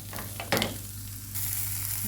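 Eggplant curry masala fries in a pan with a steady, close sizzle, broken by a few stirring scrapes and growing a little louder toward the end.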